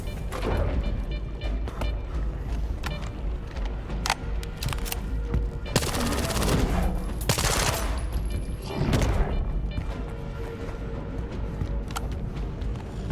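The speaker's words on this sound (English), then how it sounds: "I'm shooting everything, man." Sustained gunfire blasts away at an enemy's weak points in a shooter video game, dense bursts and volleys piling up over steady background game noise with a voice talking underneath.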